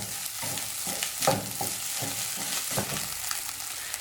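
A spoon scrapes and stirs tapioca egg masala with added salt in a frying pan, in rhythmic strokes over a continuous close sizzle.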